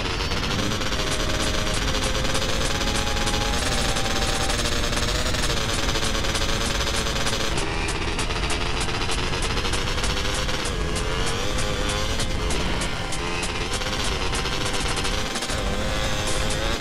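Rapid automatic gunfire in the video game GTA San Andreas during a helicopter-protection mission, dense bursts layered over a constant helicopter rotor drone, loud and continuous.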